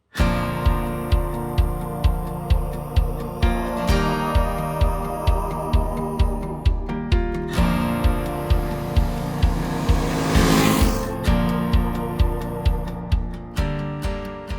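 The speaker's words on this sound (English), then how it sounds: "Dialing in some quick revs, it cuffs a little before revving further." A Brixton Crossfire 500 XC motorcycle's 500cc engine thrums close by with a steady pulsing beat, briefly rising in pitch and loudness as it revs.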